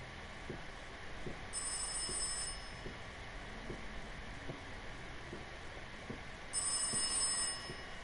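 Two bursts of a telephone ringing in the horror game Rise of Insanity, each lasting about a second and several seconds apart, fairly faint over a steady low ambient hum with soft dull thuds.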